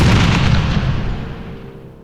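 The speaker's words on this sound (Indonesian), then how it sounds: "menciptakan ledakan api besar yang melahap prajurit bayangan" A fiery explosion as a fist smashes into the ground: one loud, close, heavy boom with a crackling burst that rumbles and slowly fades over about two seconds, with no voices.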